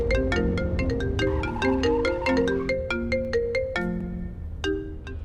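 A mobile phone rings with a bright, repeating electronic melody of quick tonal notes, close and clear, announcing an incoming call.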